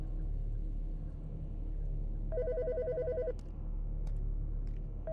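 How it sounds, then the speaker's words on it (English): A telephone rings in the Autopsy Simulator video game, one clear warbling electronic ring lasting about a second over a low steady background rumble, followed by a few faint clicks. "The fucking phone."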